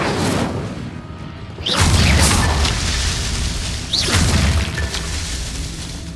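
Incendio fire spell cast in Hogwarts Legacy, two loud booming fiery bursts a couple of seconds apart, each with a rising whoosh, over a steady roaring game background.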